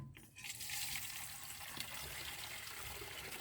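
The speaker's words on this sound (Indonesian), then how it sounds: "Kita menyiramnya seperti ini saja kawan." Water pours steadily onto a potted plant, a soft continuous splashing and trickling that runs without a break from start to finish at low volume.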